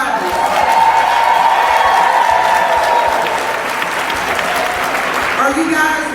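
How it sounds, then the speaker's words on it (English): Graduation-ceremony audience applauding the seniors: a full, steady crowd clapping with scattered cheers, voices mixed in beneath it, easing off slightly toward the end. "Let's give the seniors a round of applause."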